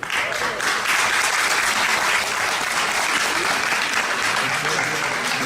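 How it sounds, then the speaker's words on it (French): A cinema audience at a free evening screening of a French TV crime film claps vigorously, a loud, dense and continuous wash of applause with faint voices underneath. "vous pouvez applaudir, s'il vous plaît."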